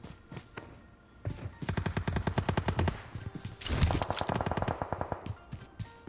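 Rapid automatic gunfire in the PUBG Mobile battle royale game, several quick bursts of shots at close range with short pauses between them and no talk.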